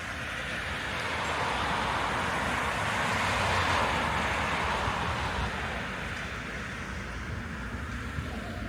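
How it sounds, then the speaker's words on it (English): Street traffic picked up in stereo by the built-in microphones of a DJI Pocket 3, a steady, fairly loud broadband rush of passing vehicles that swells slightly midway, with no one talking. "the traffic should now be as stereo as possible"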